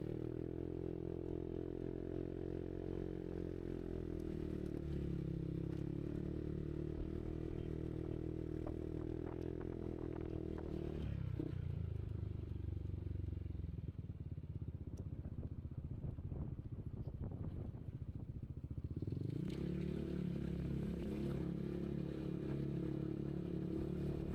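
A motorcycle engine carrying a passenger labors steadily climbing a steep mountain slope, its pitch dipping and rising again as it strains, with scraping and clattering noises mixed in.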